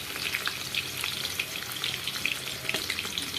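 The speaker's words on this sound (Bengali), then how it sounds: "এখন মাংস বসিয়ে দিয়েছি কষাতে" Mutton pieces being frying-browned (kosha) in a pan give off a steady, dense sizzle with a few soft stirring knocks, close and even throughout, with no voices.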